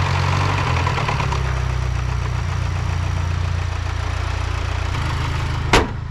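The engine of a Mini Cooper F56 JCW idles at close range with a steady, loud, low rumble throughout, broken by a single brief click near the end.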